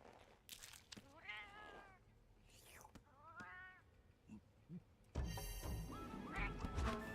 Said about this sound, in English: I think that cat was a little jealous. I think he wanted the food.